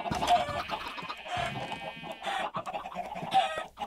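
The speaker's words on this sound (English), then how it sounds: "Chickens get loud." Chickens in the Minecraft video game cluck loudly in repeated, overlapping bursts, with several birds squawking close by throughout the few seconds.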